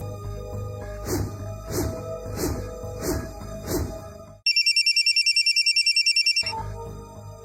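A mobile phone ringtone for an incoming call: a loud, regularly pulsing melodic ring for several seconds, then a burst of rapid high electronic beeps before the ring resumes.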